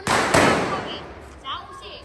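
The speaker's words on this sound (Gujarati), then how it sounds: "ફટાકડા જો" Firecrackers going off outdoors in a village: two sharp, loud bangs in quick succession that ring out and fade over a couple of seconds, followed by faint voices in the background.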